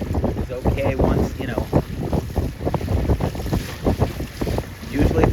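Wind buffets the microphone in steady gusts at a C420 sailing regatta while someone speaks throughout, his voice riding over the blustery rush.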